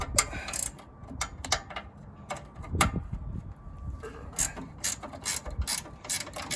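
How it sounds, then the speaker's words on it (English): A ratchet wrench with a 1/2 inch socket clicks on the handlebar mount bolt of a Bolens/MTD 22 inch snowblower, close and loud, in repeated short bursts of rapid pawl clicks separated by brief pauses. "1/2 inch wrench on the handlebar mount"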